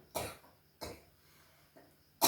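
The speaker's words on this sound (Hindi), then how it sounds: "खांसी है क्या?" Three separate coughs from an older woman, close and fairly loud, with short pauses between them and a fourth burst starting right at the end; no talking.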